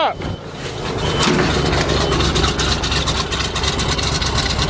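A 427 gas Chevrolet dump truck engine catches on a cold January start and settles into a loud, steady rumbling idle close by, with excited voices talking over it.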